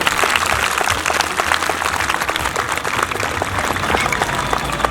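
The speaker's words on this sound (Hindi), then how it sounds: "अपने लिए एक बार प्लीज तालियां।" A large audience of about 500 children claps together in dense, sustained applause at a school gathering, loud and steady throughout with no voices standing out.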